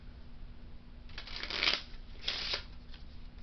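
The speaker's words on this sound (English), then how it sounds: "I'm just going to shuffle it up." A deck of playing cards is riffled twice, two quick crisp bursts of flapping paper, close and quiet.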